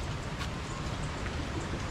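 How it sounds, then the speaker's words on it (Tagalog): Heavy rain pours steadily on a house under renovation, a dense, even wash of drops close by with no pauses across the whole stretch. "Malakas sa ulan."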